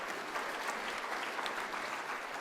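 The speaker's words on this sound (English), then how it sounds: "That deserves, I think, an applause for that prospect." Steady, dense audience applause at a talk fills the whole moment evenly, a continuous wash of many hands clapping at moderate distance with no voices.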